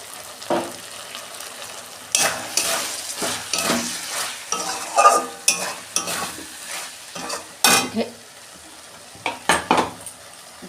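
Okra curry with mustard oil, flavoured with mustard and poppy seed, stirred in a pan: repeated scraping strokes of a utensil against the metal over a soft sizzle, with irregular knocks and clinks, close and moderately loud, no voices.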